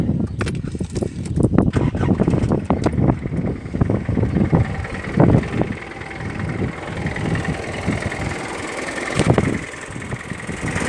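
Isuzu Rodeo 2.8 turbo diesel engine idling steadily in a motorhome, a smooth, fairly quiet low rumble with occasional knocks and bumps over it, no speech.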